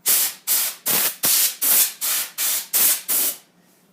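Nine short bursts of compressed air hissing in a steady rhythm as dust is sprayed out of a computer's insides, each blast loud and close, with brief gaps between them.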